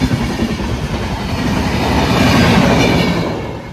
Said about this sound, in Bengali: অনেক বড় তো, অনেক বড় ট্রেন